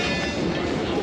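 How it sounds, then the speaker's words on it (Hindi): Allama Iqbal Express train pulling into and halting at a platform where construction work is going on, with a steady, loud rumble of railcars filling the scene. "वहीं पे आके रुकी है ट्रेन"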